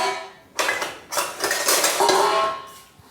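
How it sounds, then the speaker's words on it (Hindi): A spoon stirs milk powder into cold milk, scraping and clinking against the metal pot in short bursts, close and fairly clear. "तो इसको हम घोल लेंगे।"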